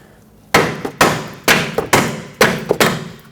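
A hammer taps an upper control arm ball joint through its mount on a 2003-2012 Chevrolet Colorado 4x4, with the nut backed onto the threads; six sharp metallic strikes land close and loud in an uneven rhythm.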